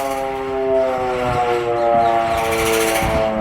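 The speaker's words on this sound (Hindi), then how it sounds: "1971 के युद्ध के दौरान इस्तेमाल लाई गई हाथ से चलने वाली सायरन की मशीनों को फिर से बाहर निकाला गया।" A hand-operated siren machine from the 1971 war, brought out and tested again after 54 years ahead of a Rajasthan mock drill, gives a steady, wailing harmonic tone that holds continuously and fairly loud, with no talking.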